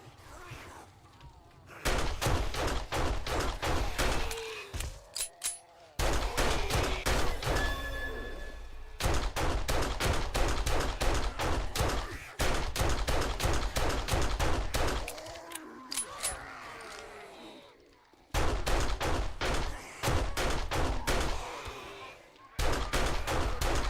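Level 1 pistol fire in the survival game 7 Days to Die: rapid, loud repeated shots in long dense bursts with brief pauses between volleys, punchy and close, with faint other game sounds underneath.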